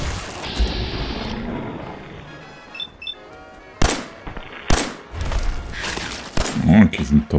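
Sharp gunshots from the video game Fallout 4 on Xbox Series X crack in several scattered bursts, loud and close, with someone talking between them.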